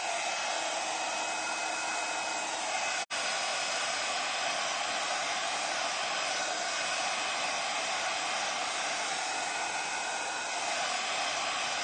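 A hair dryer blows steadily and loudly at close range, drying decoupage on a ceramic vase, its broadband whoosh unbroken apart from one brief cut-out near the start.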